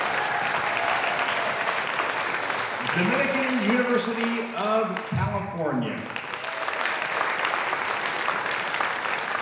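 Sustained applause from a concert audience for a high school's graduating 2024 seniors in a concert hall. It is steady and broad throughout, while an announcer speaks over the middle part.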